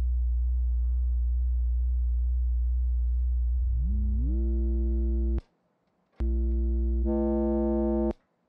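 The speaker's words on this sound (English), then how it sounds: "Sine wave from the ULFO." A steady synthesized sine-wave tone from a modular synthesizer's LFO glides upward, holds, cuts out abruptly, then returns loud and buzzy before stopping again.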